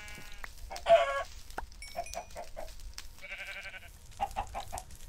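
Minecraft chicken clucks in short bursts, a few quick clipped calls spaced across the moment, close and fairly clear with some other game noises between them and no talking.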